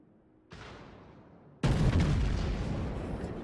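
Naval shells from World of Warships battleships hitting the Tirpitz: a muffled boom, then a much louder, heavy blast that rumbles and decays slowly, with no voices.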